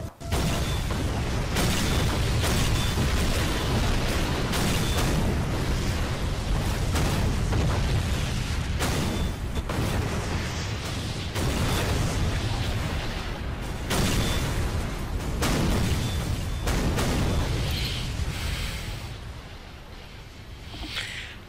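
Meteor strike explosions in Garry's Mod, loud booming blasts arriving in quick succession like continuous bombardment, dense and heavy throughout and easing slightly near the end.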